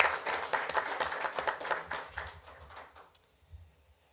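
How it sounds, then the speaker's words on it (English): Audience members at a city council meeting clap for the municipal building proclamation, with distinct individual claps in a modest round that thins out and stops after about three seconds, leaving near silence with a faint murmur. "So let's give our municipal building a nice round of applause."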